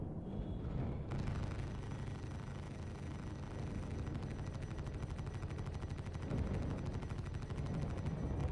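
Sustained video game gunfire from a gunner, dense rapid shots forming a loud continuous barrage with heavy low rumble throughout, no talking.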